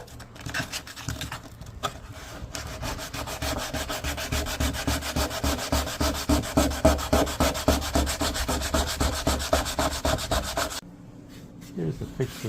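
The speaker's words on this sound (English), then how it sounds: "So I'll sand it from this side on those ones." Hand sanding a wood veneer skin-on-frame stand-up paddleboard frame, with steady, rhythmic back-and-forth rasping strokes, close and loud, that stop abruptly near the end and leave quiet handling sounds.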